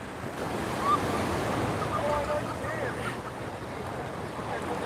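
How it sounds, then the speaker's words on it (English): Ocean waves roll in on a Hawaii shore as a continuous loud surf wash with wind buffeting the microphone, steady throughout with a slight surge near the start. "look at these waves coming in now"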